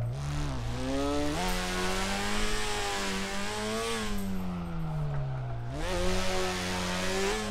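Subaru BRZ engine in the DRIFT21 drift game, revving steadily with a whining, rising-and-falling tone through gear changes, loud and continuous with no talk.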